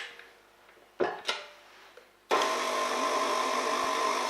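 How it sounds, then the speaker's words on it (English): An electric beater runs at slow speed mixing choux pastry dough in a mixing bowl, a steady whirring drone starting abruptly after a couple of light knocks and holding constant to the end. "this time we use a beater on a slow speed"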